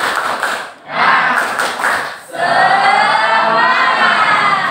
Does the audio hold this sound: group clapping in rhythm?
yes